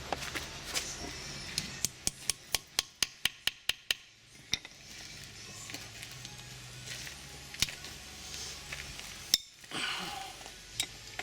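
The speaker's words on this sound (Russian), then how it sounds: "теперь откручиваем болты 12-гранкой М10 на задней крышке редуктора" Unscrewing M10 12-point bolts on the rear differential cover of a Mercedes W210 E270: a quick, even run of sharp ratchet clicks, then sparser metallic ticks and clinks nearby, with no speech.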